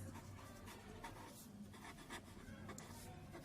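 Marker or chalk writing on a classroom board during a grammar lesson, a steady scratchy stroking that runs continuously at close range with no talking.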